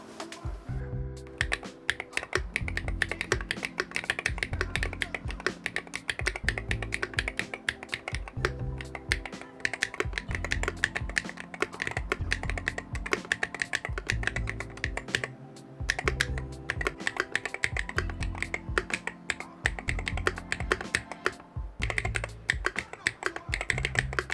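A steady stream of fast, close keystrokes comes from an IROK MG75 Pro all-aluminum Hall-effect keyboard fitted with thick keycaps. The clacks stay crisp and even for the whole clip, with no talking.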